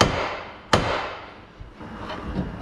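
A single sharp hammer strike on a car axle during a K20A2 engine swap, one clear metallic impact standing out over steady workshop noise, followed by a couple of fainter knocks.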